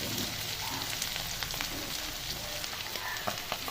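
Ginger and garlic paste frying in hot oil in a pan, a steady close crackling sizzle with scattered sharp pops throughout, no voices.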